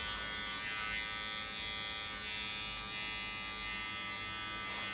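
Electric hair clippers set to a 1.5 guard buzzing steadily up close during a skin fade haircut, a continuous motor hum with small shifts as the blade flicks out through the hair.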